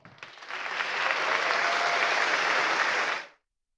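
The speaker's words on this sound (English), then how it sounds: "Great big applause." Audience applause after a lightning talk at a tech meetup, a dense wash of many hands clapping that swells quickly, holds steady and loud for a few seconds, then stops abruptly.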